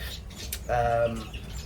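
Cage birds and chicks in a breeding bird room give a brief, clear chirp and a short whistled note, fairly close, over faint room noise.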